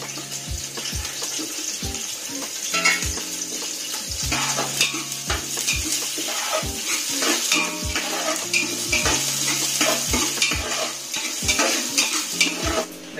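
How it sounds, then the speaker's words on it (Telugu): Onions fry in a pan for prawn biryani, with a continuous sizzle and a spoon scraping and clinking against the metal pot in irregular, near strokes. "ఫస్ట్ ఆనియన్స్ వేసుకోవాలి."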